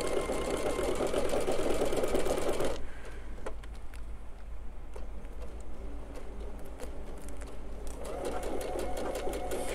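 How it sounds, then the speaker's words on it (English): A sewing machine stitches pinned quilt rows together, running in fast, steady bursts: loud at the start, pausing with light clicks and ticks, then starting again near the end. "now that these first two rows are pinned together, we're going to stitch them."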